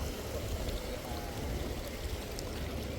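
Steady flowing water runs while a motorbike is washed outdoors near a village on the Narmada Parikrama route, a continuous even rush with no pauses and no voices.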